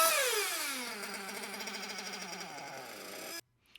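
A nitro model engine with a too-lean low-speed needle idles unevenly, starting with a falling whine that drops into a rough, wavering putter before cutting out abruptly, leaving near silence.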